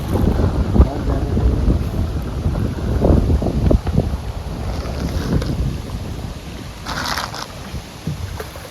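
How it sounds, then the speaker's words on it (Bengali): Strong wind whipping across a small fishing boat in heavy rain in the Sundarbans, loud continuous rushing and microphone buffeting with water noise, and brief voices faintly underneath. "এই হাওয়ার জন্য একটু সমস্যা বেশি।"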